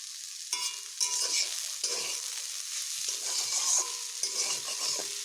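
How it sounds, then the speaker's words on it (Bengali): Water spinach (kalmi shak) fries over medium heat in a pan, giving a continuous sizzle broken by repeated scraping and clattering strokes of a spatula stirring the greens. "এবার বেশ ভালোভাবে একটু ভেজে নিচ্ছি।"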